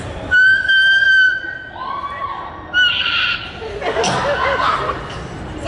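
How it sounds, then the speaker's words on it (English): A singer's voice leaps into a piercing whistle-register tone, a thin sustained squeak held high, then slides and flutters through several shorter high notes. "So that's a whistle tone."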